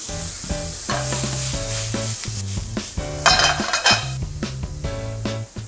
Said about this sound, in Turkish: Pırasalarla beraber soteleyeceğiz.